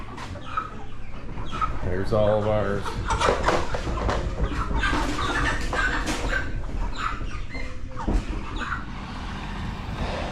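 Flock of farm chickens clucking and squawking close by, busy overlapping calls with a brief speaking voice mixed in.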